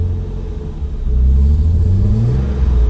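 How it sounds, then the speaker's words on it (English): A BMW E36 M3 engine revs as gas is applied, a loud steady low rumble that swells and climbs in pitch partway through, struggling as it rises, heard up close with no talk. "So this is what happens when I give it gas."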